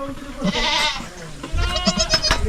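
Two Osmanabadi billy goats bleat, one call early and a second near the end, loud and close, over low rustling background noise.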